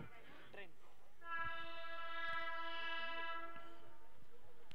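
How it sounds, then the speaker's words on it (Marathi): A local train passes near Kopar station, its horn blaring loudly and steadily for several seconds after a brief stretch of talk, with rumbling rails underneath. "दिवा वसई देखील आपण ट्रेन पाहू शकता. लोकल कोपर स्टेशन देखील लगेच पाहू शकता."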